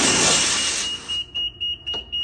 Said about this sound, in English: You hear that beep? It's beeping a code.